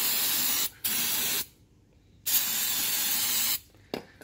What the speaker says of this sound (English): give it a good clean with the brake clean again